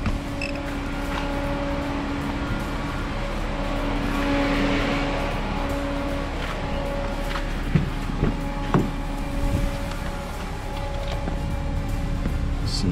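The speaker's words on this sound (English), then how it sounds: "Car's still running." The engine of a parked car idles steadily while its air conditioning runs, a low constant drone with scattered creaks and clicks nearby and no talk.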